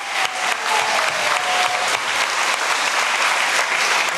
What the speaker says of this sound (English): you all have to give them a round of applause